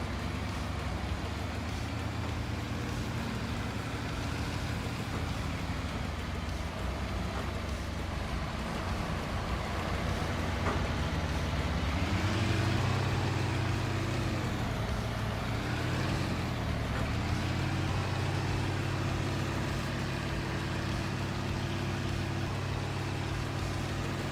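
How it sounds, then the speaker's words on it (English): A tractor engine in Farming Simulator 25 drones steadily while hauling a heavy trailer it is too underpowered for, a constant low rumble that swells slightly in pitch midway through as the load strains. "This tractor is woefully underpowered for this trailer."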